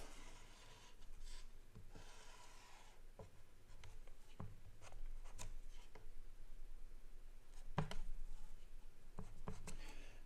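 Marker drawing a curve on a classroom board during a pre-calculus lecture on functions, a quiet run of rubbing, squeaky strokes and light taps with no talk.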